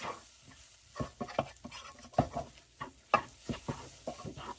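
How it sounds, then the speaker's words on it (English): A spoon stirs chili ingredients around in a pot, making irregular thick scrapes and soft knocks at close range. There is a quiet sizzle between the strokes. "After you get all that on there, stir it in really good"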